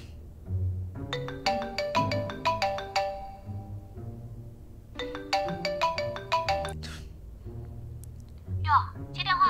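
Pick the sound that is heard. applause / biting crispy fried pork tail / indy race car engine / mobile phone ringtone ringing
mobile phone ringtone ringing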